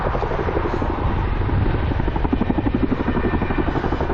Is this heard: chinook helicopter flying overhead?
yes